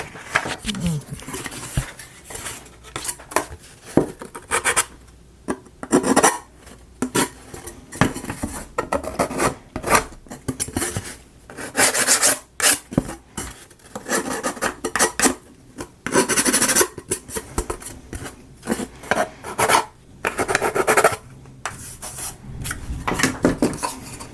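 Book nook kit pieces being sanded with a sanding stick: irregular bursts of rasping, scratchy rubbing strokes, close and fairly loud, broken by short pauses and small knocks.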